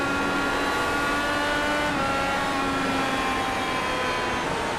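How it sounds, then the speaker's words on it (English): Loud continuous engine roar of a racing car at high revs entering turn 1, its pitch easing slightly lower as the throttle rolls off. "You can hear the throttle roll off"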